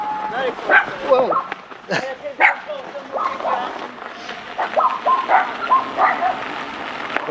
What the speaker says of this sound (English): here's a whole lot of dogs